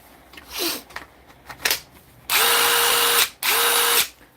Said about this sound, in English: That impact driver there